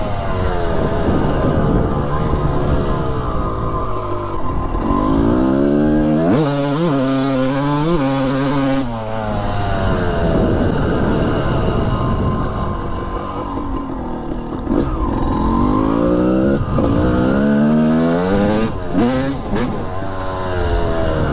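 A 1988 Honda CR250R two-stroke motocross bike revs loudly and up close, its engine rising and falling repeatedly over about twenty seconds with no talk.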